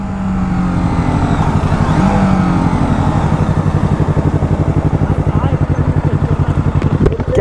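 BMW G310RR and Yamaha YZF R3 sport motorcycles race side by side, engines droning loud and steady with rapid pulsing revs throughout, close to the microphone, a voice briefly audible beneath the engine roar.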